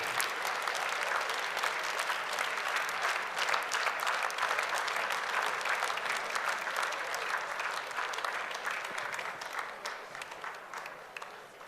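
A large audience at the Miss Armenia 2019 pageant final gives sustained, dense applause for the contestants as they take the stage. The clapping stays steady and loud throughout with no pause.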